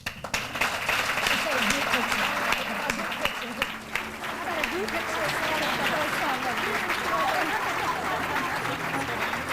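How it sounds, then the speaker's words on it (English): Audience at the 1998 PPC Grand Awards gives a final round of applause for the winners, sustained dense clapping from a crowd with cheering voices and chatter mixed in, fading slightly toward the end. "why don't we all give everybody one final round of applause tonight for our winners"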